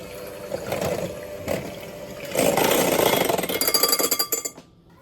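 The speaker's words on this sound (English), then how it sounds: "We're going to use our hand mixer and we're going to whisk those together." A hand mixer whisks eggs for a strawberry streusel cake, its whirring motor buzzing close up in surging, uneven bursts as the beaters work the bowl, stopping abruptly at the end with no voices.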